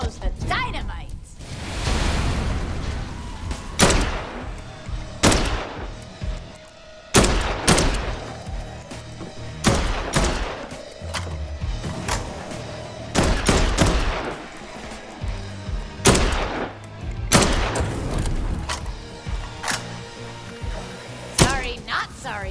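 The first gun picked up in Dead Island 2 fires repeatedly, sharp loud shots in irregular bursts and single cracks spread across the stretch, with thuds and game ambience between them.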